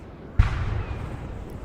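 A single ship's cannon shot in a naval battle in the video game Napoleon Total War: one sudden boom that fades into a lingering rumble, set against steady background noise.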